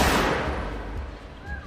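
A gunshot sound effect in an animated story, a sharp loud blast at the start that decays into a rumbling tail.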